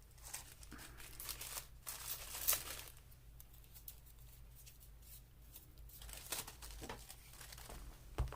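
Paper and collage material torn by hand in short crinkly rips and rustles, close and fairly quiet, with bursts of crumpling between pauses and no talk.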